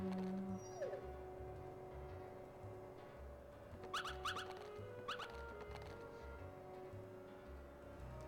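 Dogs in the video game Kingdom Hearts let out a few short, high, wavering howls and yelps at moderate distance, layered over soft game music.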